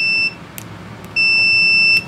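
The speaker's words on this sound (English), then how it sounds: "hopefully you can hear the beep" A multimeter set to continuity gives two loud, steady electronic beeps, the first short and the second longer, separated by a brief gap, with no talking.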